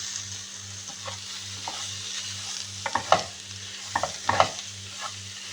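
Boiled, cut sweet potatoes tossed with spices in a hot pan, giving a low sizzle and a few sharp scraping stirs and clinks of a spatula toward the end, close by, with a steady stove hum beneath and no speech.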